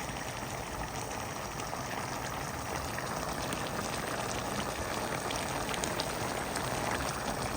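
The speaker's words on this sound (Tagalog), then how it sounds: "lutuin lang po natin ang ating talong. Gisa-gisa lang po natin." Eggplant sautés in a pan for a Filipino vegetable stir-fry, giving a continuous, even sizzle and crackle close by, with no talking.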